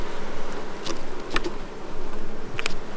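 Steady, close buzzing of many honeybees in a hive box, loud and continuous, with a few brief clicks and knocks.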